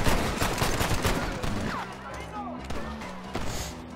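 Pistol shots in Red Dead Redemption on Xbox 360, a cluster of sharp reports fading into echo, with a voice talking over the gunfire.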